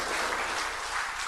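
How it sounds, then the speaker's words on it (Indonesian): An audience claps steadily and densely for the minister at a ministerial handover ceremony, a continuous even wash of applause with no break. "Tepuk tangan sekali lagi untuk Bapak Menteri"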